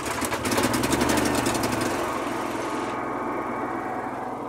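Small kick-started engine running near and loud, a rapid buzzing putter with a fast pulsing rhythm at first that settles into a steady, even drone.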